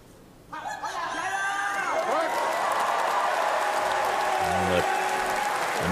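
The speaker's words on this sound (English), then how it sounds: "A noise of appreciation from the crowd" Arena crowd at the Paris 2024 Paralympic para powerlifting finals breaks into sudden loud applause and cheering after a lift, swelling quickly and holding steady with whistles and shouts mixed in; no talk.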